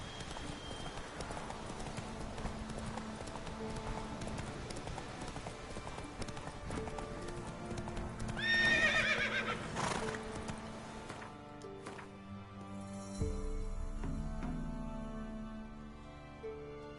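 Roach, the horse in The Witcher 3 game, trots with steady clip-clop hooves over a background game soundtrack, with a brief whinny partway through.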